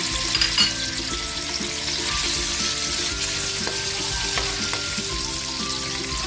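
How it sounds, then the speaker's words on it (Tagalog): Tofu frying in oil in a pan, a steady bright sizzle with crackles and occasional spatula clinks, close and continuous, with no talking. "Naprito na natin yung ating tokwa."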